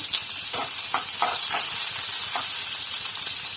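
Garlic and onions sizzle in hot oil with mustard seeds, a steady bright hiss with a few soft stirring scrapes, close and without speech.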